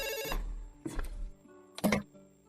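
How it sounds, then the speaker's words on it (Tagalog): An old-style telephone bell rings in short bursts, three clear trills with pauses between them, loud and close in a quiet room. "Oh, nagri-ring na ang telepono nyo."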